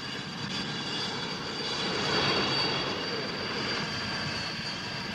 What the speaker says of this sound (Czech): Helikoptéra!